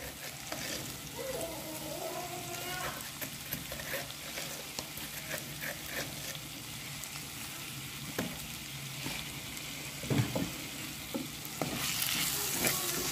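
Biryani ingredients sautéing in a pot for Sri Lankan style pot biryani, a steady low sizzle with faint scraping and stirring clicks, no talking.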